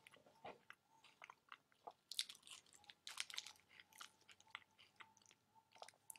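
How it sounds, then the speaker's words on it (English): Someone chews a raw food wrap filled with dates up close, producing wet crunching and smacking bites in an uneven, continuous rhythm with no talking. "start chewing."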